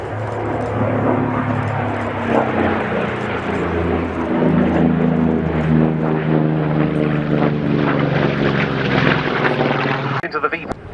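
A Vought Corsair propeller fighter passes at the 2016 Yeovilton air show, its loud, steady droning engine note slowly rising and falling over about ten seconds, with a voice talking underneath.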